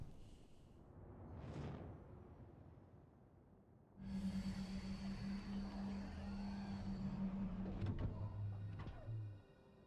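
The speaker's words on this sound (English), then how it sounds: "Deploy landing gear." Spaceship landing gear deploys in Star Citizen with a mechanical whirring hum that starts abruptly, holds steady for several seconds, then ends in a few clunks and a fading tone.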